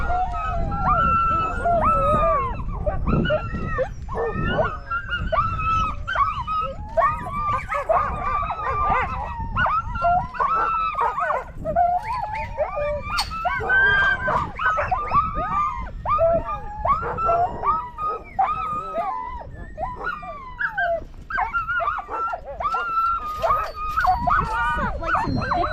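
A pack of sled dogs at Punchbowl Glacier near Girdwood, Alaska howls, yips and barks loudly and constantly, a dense chorus of overlapping voices with people talking underneath.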